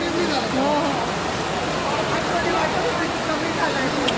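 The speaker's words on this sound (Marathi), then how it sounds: "ऐकतच नाहीये पाऊस" Rain pouring steadily during a visit to the Vani Devi temple, a continuous even wash of noise with voices talking over it.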